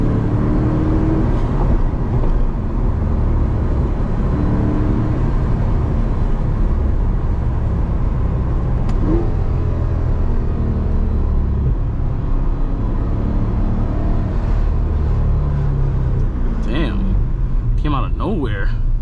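A Chevrolet C8 Corvette engine in sport mode drones loudly and steadily from inside the cabin, with the rumble continuous throughout and a few sharper bursts near the end; a person talks over it.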